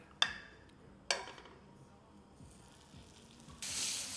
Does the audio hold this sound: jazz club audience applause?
no